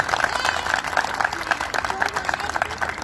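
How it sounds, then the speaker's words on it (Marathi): An audience of adults claps for children at a Shivaji Jayanti lecture, a dense, steady ripple of many hands applauding at moderate distance, with some crowd murmur underneath. "ह्या लहान मुलांसाठी सर्व मोठ्या माणसांनी टाळ्या वाजवाव्या"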